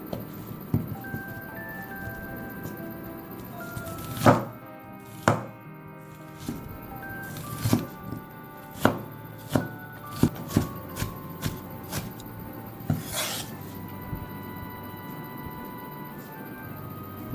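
A knife chops a medium-sized onion on a board, landing in a string of sharp, uneven thunks, some isolated and others in quick bursts, close and clear over a low steady hum.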